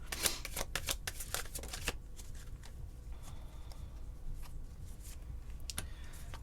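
Tarot cards shuffled by hand, a quick burst of crisp riffling flicks followed by softer sliding and tapping, close and fairly quiet, with no talking.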